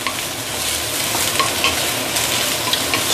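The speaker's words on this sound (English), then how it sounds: "you can put in your luffa, your si gua, okay, and start frying them together" Luffa frying in a hot pan with egg, a loud continuous sizzle and crackle with occasional stirring scrapes, no voices.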